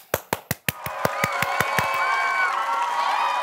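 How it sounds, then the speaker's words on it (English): An audience at a children's show claps in a quick, sharp rhythm of about a dozen beats, then breaks into loud, sustained cheering and applause. "let's give a big round of applause for the So-and-So Show players"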